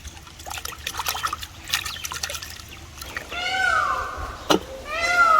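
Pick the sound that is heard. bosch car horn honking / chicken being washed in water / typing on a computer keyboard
chicken being washed in water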